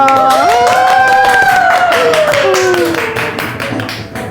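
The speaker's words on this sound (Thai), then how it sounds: "เรามาขอเสียงปรบมือเชิญเธอเลยดีกว่าค่ะ" A studio audience at a Thai beauty show claps to welcome a guest, with crisp, fairly loud, quick hand claps under strong sustained tones that fade slightly toward the end.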